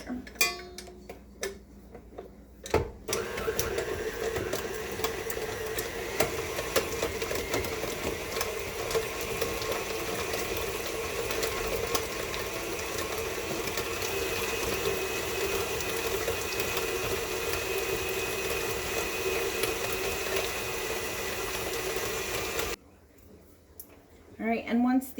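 An electric mixer creams butter and shortening in a bowl with a steady motor whir and rhythmic ticking beater clatter that runs continuously for about twenty seconds, bracketed by brief quieter moments before and after.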